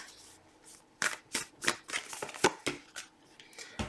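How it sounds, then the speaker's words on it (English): Oracle cards are shuffled by hand in a series of crisp, riffling bursts, about ten close quick flutters in a quiet room. "Let's close off your reading with an oracle card from the universe."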